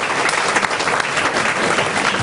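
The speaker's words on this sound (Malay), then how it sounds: "Kita beri tepukan paling gemuruh kepada Dr." A thunderous round of applause from the audience at a Sinar Harian public forum on Malaysia's general election, loud, dense clapping filling the whole short stretch with no break.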